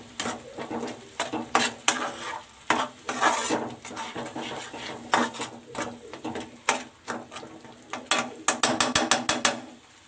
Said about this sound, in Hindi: इसके बाद हम ये टमाटर का पेस्ट डालेंगे और इसे अच्छी तरह से मिक्स कर देंगे।